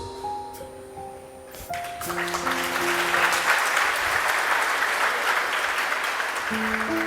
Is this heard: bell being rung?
no